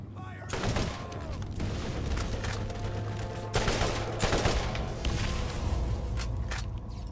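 Bursts of gunfire from the Borderlands video game, several rapid volleys across the span, loud and close over a steady low game hum, with a few heavier shot clusters standing out.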